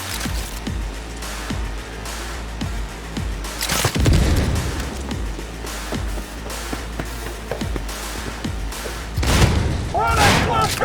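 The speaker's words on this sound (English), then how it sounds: "fireworks show." Fireworks show in the video game Cyberpunk 2077: repeated booming bursts and thuds in an irregular barrage, with a few louder blasts, over a steady low rumble of game ambience.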